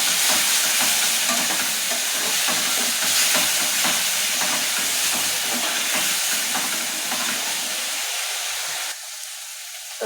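Ginger, onion, garlic and green chilli paste sizzles and fries steadily in a pan while being stirred, with dense continuous hissing and scraping close up; the sizzle drops abruptly near the end, leaving a quieter hiss.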